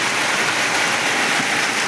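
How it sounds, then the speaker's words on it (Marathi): Heavy night rain pours down in a dense, steady hiss without pause, close and loud, with no voices. "सध्याला नऊ वाजेत भरपूर पाऊस चालू आहे"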